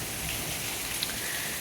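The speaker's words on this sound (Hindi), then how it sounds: "बारिश की आवाज़ इतनी ज़्यादा आ रही है" Steady heavy rain falling outside during a monsoon-season vlog, a dense continuous hiss with no gaps or voices.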